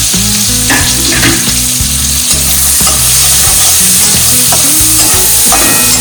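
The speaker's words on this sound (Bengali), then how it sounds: "এবার দেবো আমি একটু গার্লিক, তার সাথে একটু গ্রিন চিলি আর স্প্রিং অনিয়নগুলো কাটা ছিল সেটা দিয়ে দেবো।" Garlic, green chilli and chopped spring onion fry in a pan for Tangra-style chilli egg, giving a loud, steady sizzle with repeated clattering stirs throughout and no voices.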